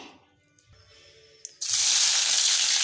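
Cooking oil heating in a pan for a non-vegetarian curry, quiet at first, then a sudden loud, steady sizzle that fills the rest of the moment up close.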